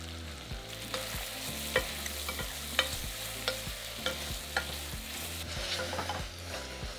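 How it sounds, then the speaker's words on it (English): Finely sliced onion frying in butter in a pan over medium heat, a steady close sizzle broken by repeated scraping stirs of the spoon, with no voices. "Add a finely sliced onion to the pan, stir and cook for 5 minutes until the onion starts to soften."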